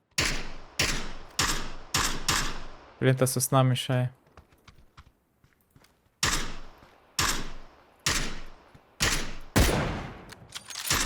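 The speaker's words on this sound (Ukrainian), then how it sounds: "У них десь зліва стріляють." Bursts of rapid gunfire in PlayerUnknown's Battlegrounds crack repeatedly in short volleys, loud and close, with a brief stretch of someone talking in the middle.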